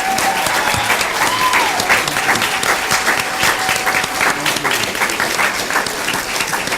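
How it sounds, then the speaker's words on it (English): A meeting audience gives parents a round of applause, a loud, sustained burst of many hands clapping that continues evenly throughout, with a faint voice briefly audible early on. "Will our parents please stand so we can give you your true round of applause?"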